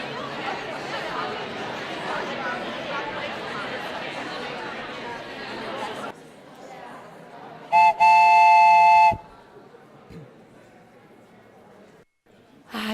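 A loud, brief electronic train-whistle signal of about a second ends a room full of overlapping chatter, followed by quieter murmuring.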